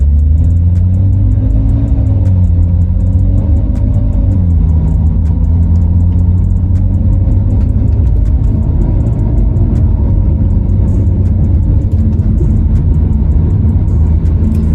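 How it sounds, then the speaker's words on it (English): An F30 BMW 335i with a ZF 8-speed automatic accelerates from a light, its loud low engine rumble climbing and shifting pitch with a couple of gear changes over a constant deep drone. "Go ahead and accelerate here."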